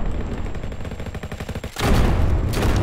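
Rapid shotgun gunfire in a Roblox game modeled on Call of Duty crackles in a quick stuttering rhythm, then a louder, heavier blast hits near the end and rumbles on.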